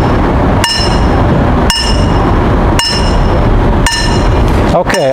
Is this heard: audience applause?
no